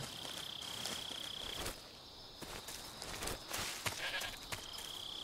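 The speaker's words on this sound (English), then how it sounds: "Yeah, I hear it. There's the goat." Goat in Metal Gear Solid 3 letting out a few short, faint bleats over quiet jungle ambience with insect chirping and soft footsteps.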